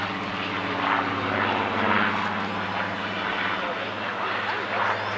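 Supermarine Spitfire flying at an airshow, its piston engine giving a loud, steady droning roar with a low throbbing hum throughout, with a commentator's voice running over it.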